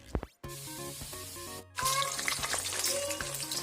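Loud, steady sizzling and crackling of fish deep frying in hot oil, close by, after a brief gap near the start.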